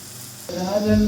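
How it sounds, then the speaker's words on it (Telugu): Chopped onions fry in a pan and are stirred until they turn yellow, for a stuffed brinjal curry. A brief sizzle swells after a short pause, with a voice over it near the end. "ఉల్లిపాయలు ఎల్లో కలర్ వచ్చే వరకు వేచి ఉండాలి వేచి ఉండాలి కలుపుకుంటూ ఉండాలి"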